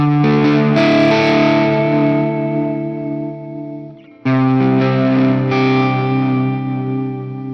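Sustained distorted electric guitar chord on a Stratocaster wavering in pitch with a floating tremolo, dipping below and rising above the note; a brief break, then another swelling chord.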